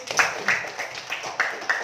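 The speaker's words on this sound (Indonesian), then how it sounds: "Oke, tepuk tangan untuk Baby" Schoolchildren clapping for a classmate during a primary-school lesson, a few quick, fairly faint bursts of claps in a small classroom.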